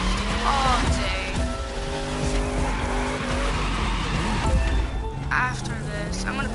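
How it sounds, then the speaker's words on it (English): Car drifting in the racing video game The Crew 2, a steady engine drone with long sliding tire squeal tones running throughout, loud and continuous, with a voice talking over it. "I can sit here and drift all day."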